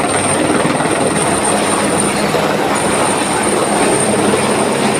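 Helicopters flying over the Kedar valley make a loud, steady rotor and engine drone that fills the whole stretch without a break, with no one talking over it.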